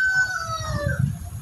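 A Black Shamo Aseel rooster crows nearby, a single strained, drawn-out call of about a second, with faint low background rumble.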